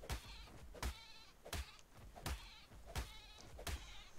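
Repeated bleating from a goat in a video game, six or so short calls at a steady rhythm, close and clear with no speech over them.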